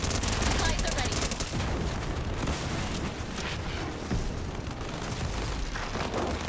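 Dense, continuous gunfire and explosions from a live event in the video game Fortnite, as players shoot at Doctor Doom, a loud dense battle din with a voice talking over it.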